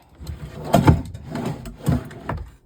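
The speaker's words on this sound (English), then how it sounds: "This one is the exact opposite. It slams and slides open." An RV's bottom drawer slides and knocks shut, producing several close wooden thuds and rattles with short scraping slides between them.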